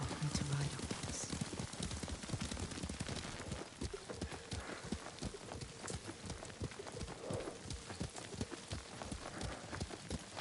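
Horse hooves clip-clop in a steady galloping rhythm while riding in Ghost of Tsushima, faint and continuous beneath game dialogue.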